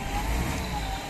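A repaired car pulls away on a rough road, missing one rear wheel, its engine droning steadily at moderate volume with no voices over it.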